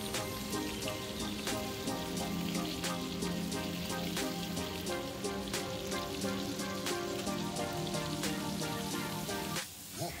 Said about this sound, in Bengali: তো এখানে আমি পটল আলুগুলো ভেজে নিচ্ছি